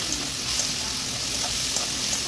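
Garlic paste frying in hot oil with softened onions for a chicken and potato curry, giving a soft, steady sizzle and crackle close by for a couple of seconds, without speech.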